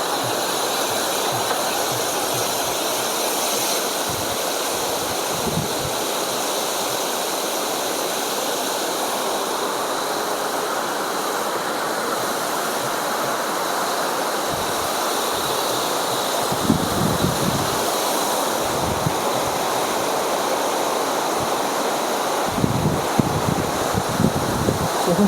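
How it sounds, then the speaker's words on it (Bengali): Vasudhara waterfall in a high, snowy mountain setting sends out a steady, loud rushing roar that never lets up, mixed with gusts of wind buffeting the microphone. "এখান থেকে ঝর্ণা প্রবাহ করছি"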